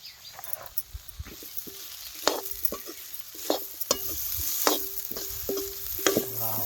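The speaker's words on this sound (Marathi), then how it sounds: "कोथमीर आपल्याला टाकून हलवून घ्यायचं" Coriander being stirred into spiny gourd (kartule) bhaji frying in a pan: a steady sizzle with repeated scraping strokes of the spoon, close and fairly loud, with no talking.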